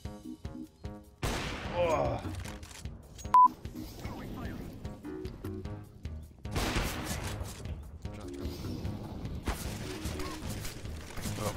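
CS:GO gunfire comes in several bursts of sharp shots and rattling volleys amid game clatter, moderately loud and mixed with excited voices talking.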